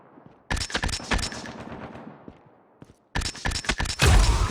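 Sniper rifle fire in a shooter video game: a loud burst of rapid sharp shots, a brief decaying lull, then another loud volley close up.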